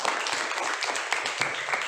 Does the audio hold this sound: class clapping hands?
yes